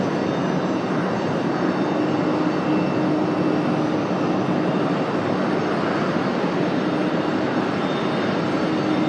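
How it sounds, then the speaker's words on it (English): A 32-year-old Airbus A300 arriving from Memphis at Raleigh-Durham airport gives a steady, continuous broadband engine roar with a faint whine, loud and unbroken throughout with no voices. "our 32-year-old A300 arriving from Memphis"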